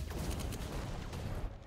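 Severed Steel video game with an overpowered sniper rifle firing through a wall: rapid, dense bursts of loud gunfire and blast noise, layered thick with game effects and no clear gaps.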